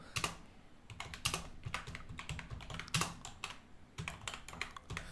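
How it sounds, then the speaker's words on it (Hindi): Rapid, close clicking of keys on a computer keyboard, typed in irregular bursts with short pauses and no talking. "यहाँ पर मैं अपने चैनल का नाम टाइप कर देता हूँ"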